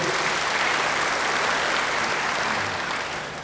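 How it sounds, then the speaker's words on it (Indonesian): A church audience bursts into a thick, continuous wash of clapping that stays loud throughout and eases slightly at the end, with no talk over it. "Beri tepuk tangan yang baik bagi dia."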